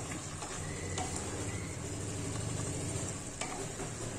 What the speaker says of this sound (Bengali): অ্যাড করে দিয়ে এটা আমি নাড়াচাড়া করে দেবো।